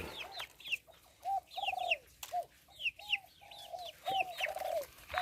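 A fighting rooster clucks in short repeated bursts, close and clear, with brief pauses between calls and no voices.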